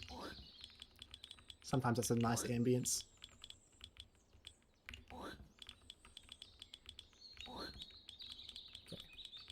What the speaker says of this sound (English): Hopefully the keyboard sounds aren't too loud with the clickety clackety